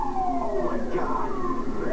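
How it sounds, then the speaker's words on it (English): A police car siren wails steadily and loudly up close, its rising and falling tone continuous throughout with possible voices underneath. "Did you turn the siren on?"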